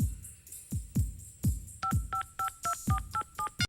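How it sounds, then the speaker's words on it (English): Telephone keypad dialing on a TV game show: a few low thumps of keys being pressed, then a quick run of about nine distinct two-tone beeps, each short and evenly paced, loud and close with no speech. "Pay attention to the number I dial."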